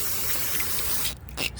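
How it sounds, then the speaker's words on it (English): A hiss of cleaner sprayed onto a part of a Chevy 5.7 Vortec EGR valve, a steady spray lasting about a second, then a brief second burst, close to the mic. "you can just spray a little bit on the part too"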